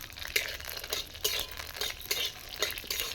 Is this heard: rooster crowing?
no